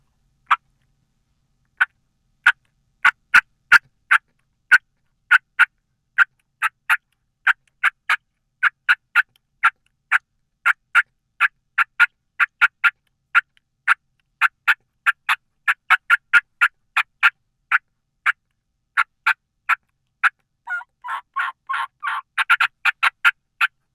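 A hand-operated turkey call imitating an excited hen: a long run of sharp, irregular cutting clucks with a few hen yelps mixed in, loud and close with no talking.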